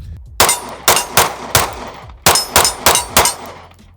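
A metal-frame pistol fires aluminum-cased ammunition in two quick strings of sharp, loud reports, three shots and then four, with brief pauses between them.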